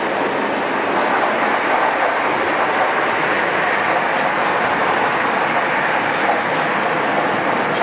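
Passenger train crossing the Øresund bridge from Copenhagen to Sweden, a steady interior rumble and hiss of the carriage in motion, constant and fairly loud, with no voices heard.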